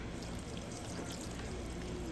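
Cold tap water runs steadily over freshly dyed polyester yarn being rinsed, a constant close hiss and splash with no pauses.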